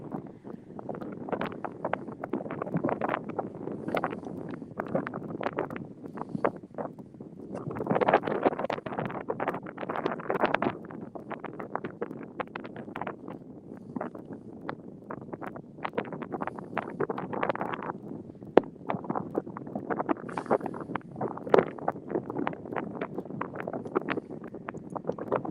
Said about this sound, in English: Nice and easy, wind coming up in face.